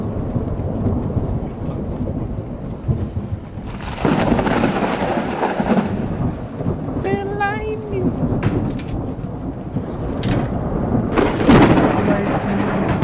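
Thunderstorm in the horror game Escape the Backrooms: a loud, continuous rumble with a sharper crack near the middle and another near the end, with a brief tonal squeal mixed in.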